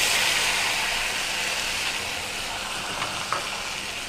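Tomatoes dropped into golden-brown onions frying in a pan, a steady sizzling hiss that eases slightly, with a faint stir and a brief clink near the end.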